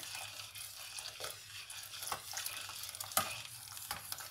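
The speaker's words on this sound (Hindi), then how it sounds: "अब हम थोड़ा थोड़ा करके इसके अंदर कस्टर्ड को मिक्स करते जाएंगे।" Custard being stirred into boiling milk, heard as a continuous bubbling, hissing wash with irregular soft scrapes of a spoon against the pot, fairly faint and steady.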